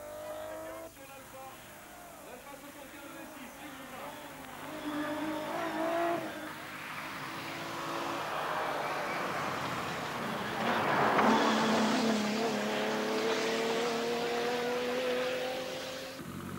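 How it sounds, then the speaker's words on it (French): An Alfa Romeo 75 rally car with an old V6 engine, competing in the 1986 Rallye du Var, revs hard through rising gear pulls, its engine note climbing and swelling as it accelerates nearby. "c'est Yves Loubet sur l'Alpha 75. Avec le vieux V6, Loubet attend toujours le nouveau moteur."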